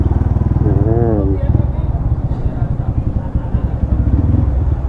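Motorcycle engine idling and revving while being parked in Zamboanga City, a steady close, loud rumble running throughout with a brief rising rev near the start and a person talking over it.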